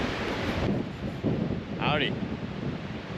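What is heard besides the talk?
strong wind at campsite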